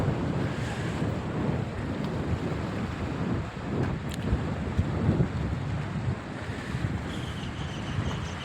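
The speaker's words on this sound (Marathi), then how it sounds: "आणि ह्या साईडला बघा पूर्ण समुद्र आहे" Sea waves wash continuously along the Konkan coast near Sindhudurg fort, a broad steady surf roar mixed with wind buffeting the microphone, with no talking.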